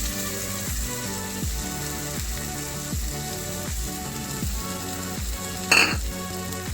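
Spice paste of chili powder, Kashmiri chili powder and tomato paste fries loudly in a pan, with a constant dense sizzle and regular scraping strokes roughly every second, plus a brief metallic clink near the end.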